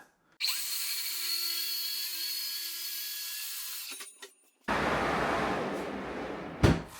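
A power tool cuts through a solid wood worktop during fitting, a loud steady whining cut lasting several seconds, then a short pause and a second burst of rough, noisy cutting ending in a sharp peak.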